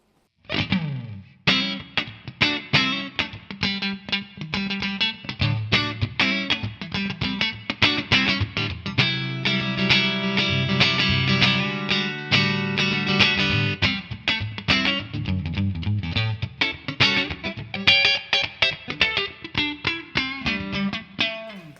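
A 1963 Fender Vibroverb guitar amp with its reverb switched on, playing funky, percussive fusion guitar with dense rhythmic chords and picked notes, loud and continuous throughout with no talking.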